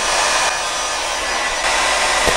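A Bort handheld hot air gun with a display runs steadily as it heats toward 600 degrees, a loud continuous broadband blowing roar that holds for the whole stretch with no voices.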